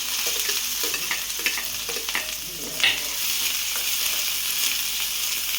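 Chopped onion and two or three chilies sautéing in a pan, a steady sizzle broken by repeated stirring scrapes at an irregular rhythm, close and clear, no voices.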